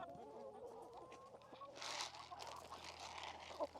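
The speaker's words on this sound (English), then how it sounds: "Look at all these red hens." A flock of red hens clucks softly and fairly close in an outdoor farm setting, with scattered short calls and rustling under a faint, quiet background.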